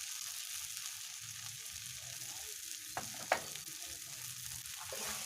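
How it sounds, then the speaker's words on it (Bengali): Greens fry in mustard oil in a pan with a faint, steady sizzle, broken by a couple of brief utensil knocks near the middle. "এবার একটু তেল গড়িয়ে দেব, সরষের তেল দিয়ে দেবো একটু।"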